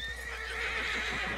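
A horse whinnies loudly in Red Dead Redemption 2, a high wavering neigh over steady hoof clip-clop, close and clear.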